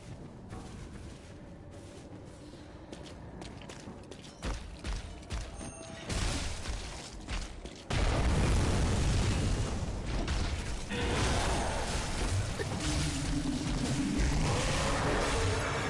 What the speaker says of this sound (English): Yes, not even a shotgun, a giant cannon.